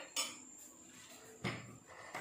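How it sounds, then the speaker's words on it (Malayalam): A metal pan is set down on a gas stove in a kitchen, giving a few faint, close clanks and scrapes spaced apart, with no voices. "ഇനി നമുക്ക് ഗ്യാസ് ഓൺ ചെയ്ത് ഒരു പാൻ ഗ്യാസിന്റെ മുകളിൽ വെക്കാം."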